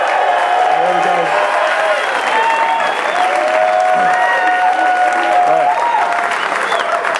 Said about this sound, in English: Could you all give a triple forte applause first?